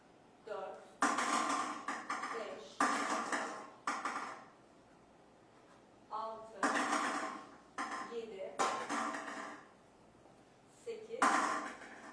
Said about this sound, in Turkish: Sıfırdan 9'a kadar 10 adet numaralı top yerleştiriyoruz.